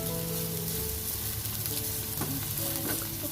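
Chilies are added to tempe gembus frying in a pan with oil, turmeric and dried shrimp, producing a loud, steady sizzle with scraping stir strokes close up.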